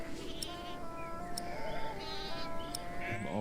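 Sheep bleating in the medieval game The Pillars of the Earth, a few short calls over steady ambient game background with faint musical tones.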